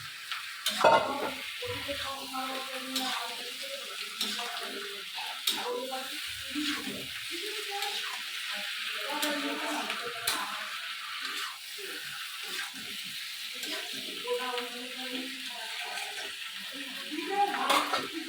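Duck meat sautés in oil in a pan and is stirred, giving a steady close sizzle with scraping and stirring sounds throughout, while a voice speaks softly underneath.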